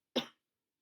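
A single short, close cough bursts out abruptly and fades within a fraction of a second, followed by silence.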